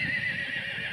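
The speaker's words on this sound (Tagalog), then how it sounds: "Kaninong kabayo yun?" A horse neighs in a short, bright whinny over a steady hiss of background noise, heard at close range for about a second.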